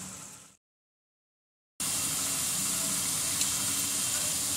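Onions frying in a pan until golden, a steady close hiss and sizzle that breaks off into a gap of silence, then resumes louder and continuous.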